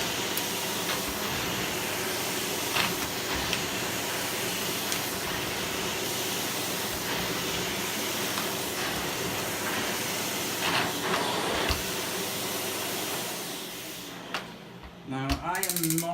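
A SEBO D2 Airbelt vacuum cleaner running steadily, a loud continuous broadband whoosh with a rattling mechanical texture that drops away near the end, close to the listener with no voices.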